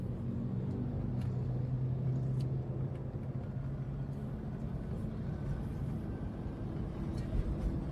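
A Mitsubishi Montero Sport with a manual transmission cruises in fourth gear, its engine a low, steady rumble heard from inside the cabin, even and moderate in level with no talking.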